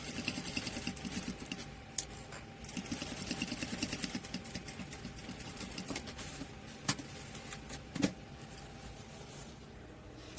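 A sewing machine stitches a waterproof diaper bag with a rapid, whirring mechanical rhythm, pausing and restarting in short runs, broken by a few sharp clicks and knocks nearby.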